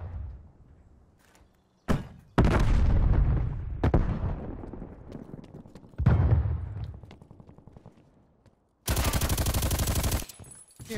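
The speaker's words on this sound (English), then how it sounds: "I threw a grenade" A grenade blast and surrounding gunfire in Call of Duty: Black Ops Cold War come as loud, separate bursts, booming explosions and rattling shots with quiet gaps between them, then a harsh sustained roar near the end.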